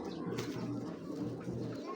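Loft pigeons, a breeding pair of checker birds raising squabs, give repeated low throaty coos that pulse in short rounded phrases at close range, alone without talk.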